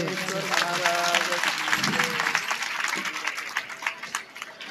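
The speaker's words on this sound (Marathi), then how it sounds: "टाळ्या वाजवा." An audience at a kirtan festival in Pune claps continuously, a dense, sustained ovation that slowly thins out, with voices mixed in underneath.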